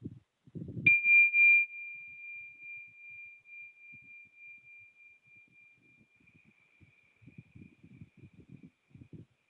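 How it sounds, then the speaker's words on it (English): A single bell is struck once at a graduation ceremony and rings out with a clear, bright tone that decays slowly over several seconds. Soft rustling and low room noise sit beneath it near the end. "ring the bell again, just to signify a shift back into our heart space"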